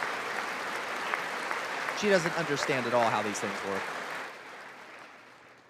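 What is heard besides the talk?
applause at the State of the Union address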